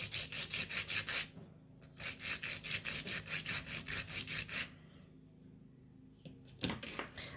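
Rhythmic back-and-forth strokes of a file shaping an acrylic nail, two close bursts of steady rasping broken by a short pause, then quieter handling noises near the end.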